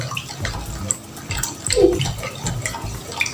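Natrosol thickener is stirred in 500 ml of water for homemade shampoo, giving close, sloshing liquid swirls with soft irregular splashes throughout.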